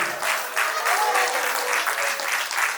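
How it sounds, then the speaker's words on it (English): Audience applause at a medical symposium, a steady crowd clapping that fills the whole moment at even loudness, with no talk over it. "A top round of applause for her"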